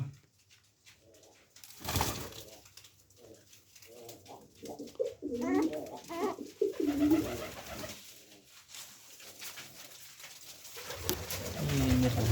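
Pet pigeons coo in a repeated, throaty, rolling pattern at close range, the calls building in strength toward the middle and again at the end, with a few soft knocks and low background hum.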